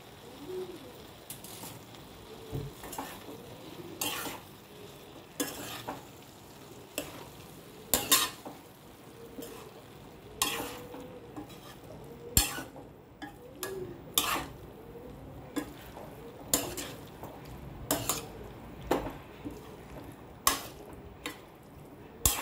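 Vegetables and paneer stir-fried in a pan: a quiet sizzle underneath repeated sharp spatula scrapes and clacks against the pan, coming roughly every second or so in an uneven rhythm, close and fairly soft overall.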